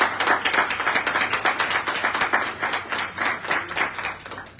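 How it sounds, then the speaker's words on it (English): An audience at a Black men's movement gathering claps steadily, a dense patter of many hands at moderate loudness that swells and dips throughout without pause. "Keep clapping up for yourselves."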